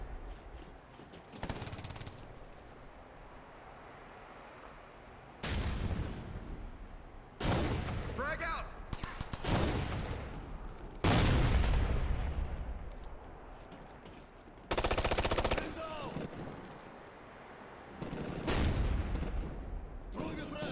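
Heavy gunfire in the video game Ghost Recon Future Soldier, with loud repeated bursts of shooting and explosive booms breaking through a constant roar of battle, close and harsh throughout.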